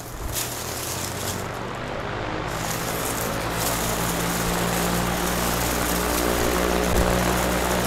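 A NewAir WindPro18W wall-mounted shop fan running on its low setting gives a steady, broad whooshing airflow with a low motor hum, constant and unbroken throughout.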